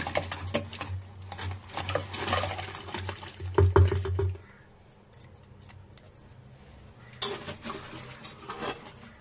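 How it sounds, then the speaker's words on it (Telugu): A spoon stirs a jaggery mixture with cardamom-pepper powder and milk in a pot for sweet junnu, scraping steadily for about four seconds, pausing quietly, then resuming near the end, close and moderately loud. "దీన్ని బాగా బెల్లం కరిగేలాగా కలుపుకోవాలి."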